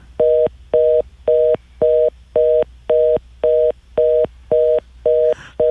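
A telephone line tone after a radio show caller disconnects: about eleven evenly spaced electronic beeps, roughly two per second, clear and steady with nothing else over them.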